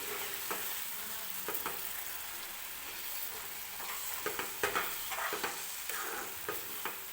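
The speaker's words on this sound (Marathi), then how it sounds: "परत एकदा मी भाजी जी आहे ती व्यवस्थित मिक्स करून घेते." Fenugreek leaves cooking with garlic are stirred in a pan, giving a soft, steady sizzle with a run of scraping spatula strokes that cluster toward the end, fairly quiet and with no one talking.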